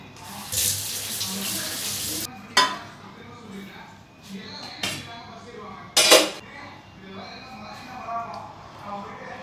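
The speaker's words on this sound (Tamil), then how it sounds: "இதை வந்து இப்படி கை கையை க்ளீன் பண்ணிக்கலாம்." Tap water runs into a kitchen sink while hands are washed, a loud splashing gush at first, then intermittent bursts of flow and clatter, with a person talking over it.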